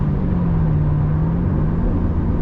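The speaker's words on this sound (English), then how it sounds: "the car revved up to the right RPM range" A car engine revs during a manual downshift, with the clutch pushed in before the lower gear is taken. It comes through as a loud, steady rumbling drone with a smooth, slowly rising and falling engine tone.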